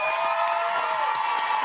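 A television talk-show studio audience claps and cheers, a dense, loud, continuous burst of applause across the whole brief moment.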